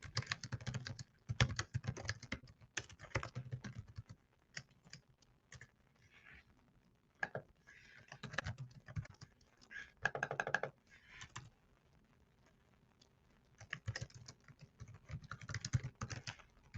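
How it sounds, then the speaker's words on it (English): Quiet typing on a computer keyboard into a chat, irregular clusters of soft key clicks with short pauses between bursts, close but faint. "let me type it in the chat"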